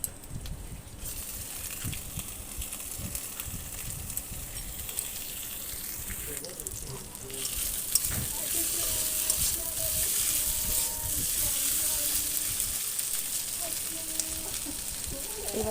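Chopped tomatoes fry in a pan over onion and ginger-garlic paste, giving a continuous close sizzle that grows louder midway, with occasional stirring clatter.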